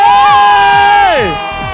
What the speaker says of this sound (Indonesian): Boleh sekali lagi berikan tepuk tangan yang paling meriah